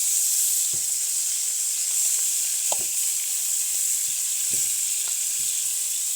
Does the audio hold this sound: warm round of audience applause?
no